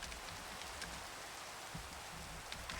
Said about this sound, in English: It does rain an awful lot.